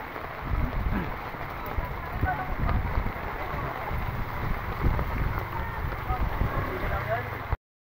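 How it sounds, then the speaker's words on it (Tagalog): Heavy monsoon rain pours down during a typhoon with strong wind, a dense, steady roar of rainfall close by that continues without pause for the whole stretch. "Kaya ngayon tag-ulan, malakas po ngayon ang ulan."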